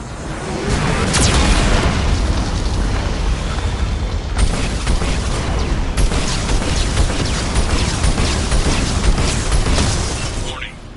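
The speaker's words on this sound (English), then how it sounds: "Warning, Geth cannon is locking on our location." Heavy blasts and booming impacts from Geth cannon fire in the video game Mass Effect 2, loud and continuous with rumbling, crackling bursts over the full stretch, with a sharp hit near the start and another partway through.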